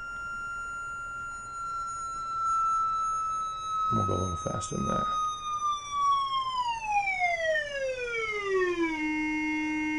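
Synthesizer tone shaped by an MFOS seven segment linear envelope generator, sustaining as a steady bright pitched note and then gliding smoothly downward to a lower held pitch, with brief talking near the middle.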